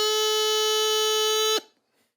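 A bagpipe chanter sounds a single sustained high A, bright and reedy with a steady drone-like tone, held loud for about a second and a half before cutting off abruptly.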